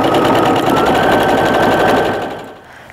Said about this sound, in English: I'm just going to do a stitch within the seam allowance going all the way around the entire outside